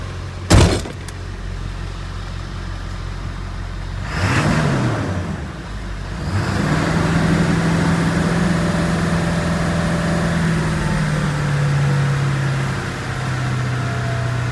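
A 2000 Ford F350 diesel with a newly replaced high pressure oil pump clatters at a steady idle after a door thump and a quick rev, then runs smooth and loud nearby with no talk.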